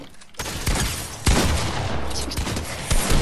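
Shotgun blasts from Fortnite land in a rapid, dense series of loud, close reports that layer over one another amid ongoing battle noise.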